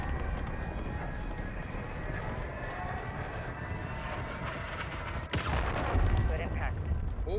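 A cruise missile strike in the Call of Duty Modern Warfare 3 video game, a dense rumbling barrage of blasts and aircraft roar that erupts into a heavier impact boom near the end.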